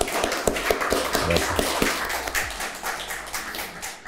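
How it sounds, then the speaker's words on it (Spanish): Studio audience applauds an actor on a talk show, a steady patter of clapping with sharp individual claps throughout, fading near the end as a voice briefly speaks. "para quien pido un aplauso"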